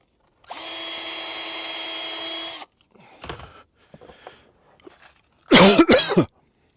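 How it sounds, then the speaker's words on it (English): A power drill drives screws during renovation work in the French countryside, with one steady whirring run of about two seconds. Scattered knocks and handling noises follow, then a loud burst of coughing near the end. "So let's put a couple of screws in there just to get that in the right place."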